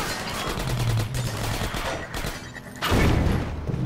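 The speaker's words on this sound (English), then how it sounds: "Where are you shooting from? Stop it. Please, stop shooting at me." Gunfire in the video game Half-Life 2 Episode 1, a dense run of rapid shots and bursts that keeps going throughout, with a louder burst near the end.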